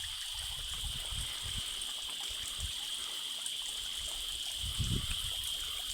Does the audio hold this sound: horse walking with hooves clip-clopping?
no